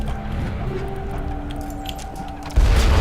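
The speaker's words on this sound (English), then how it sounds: "I don't know what that little grenade thing was that hurt him, but it like took them all out" A deep, loud explosion hits near the end in the game Mass Effect, after a low rumbling stretch of game ambience with faint tones.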